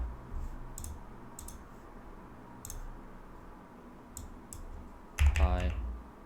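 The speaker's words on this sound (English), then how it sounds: "I don't know how I'm supposed to type these out." A computer keyboard gets a few scattered keystrokes in short clusters, then a quick brisk run of typing near the end, over a low room hum.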